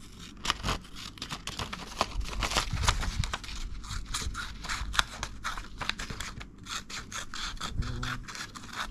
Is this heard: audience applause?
no